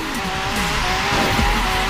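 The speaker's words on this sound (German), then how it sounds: "wenn ihr erstmal einen richtig geilen, schnellen Drift drehen möchtet" Tuned Ford GT drifting in a racing video game, with loud continuous tire screeching over a steady high engine roar, close and sustained throughout.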